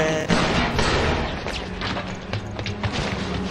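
Gunfire and booms in the co-op video game Resident Evil 5, a loud, dense run of shots and impacts that carries on without pause, with game effects layered underneath.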